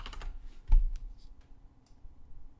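A few quick keystrokes on a computer keyboard entering a PetaLinux command for a ZCU104 project, one sharper clack standing out among soft, close clicks in a quiet room.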